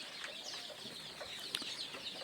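Chickens cluck softly over a constant background hum, several short calls overlapping at moderate distance.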